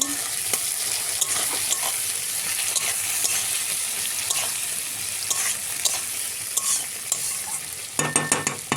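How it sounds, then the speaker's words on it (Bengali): Chopped onions sizzle steadily in hot oil in a cooking pan, a soft continuous frying hiss with stirring scrapes, and a burst of utensil clinks near the end; no voices. "পেঁয়াজটা ভাজা হতে হতে"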